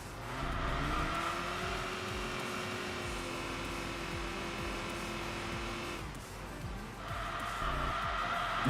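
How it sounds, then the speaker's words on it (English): Can-Am race cars roar in Enthusia Professional Racing, a loud sustained engine drone with rising pitch, a brief dip as the revs drop and then the engine howls again. "The Can-Am cars. Those things are loud."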